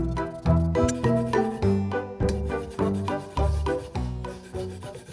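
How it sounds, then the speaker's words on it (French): A brush scrubs encrusted rust off a part from a rusty 125 motorcycle in repeated rhythmic strokes, each a squeaky rasping rub, close and fairly loud with no talking. "La rouille est incrustée. Donc du coup je vais essayer de la prendre à la brosse."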